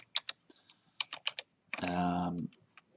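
Fingers tap keys on a computer keyboard in a quick irregular run of soft clicks, with a brief louder chime-like burst partway through, quiet and close.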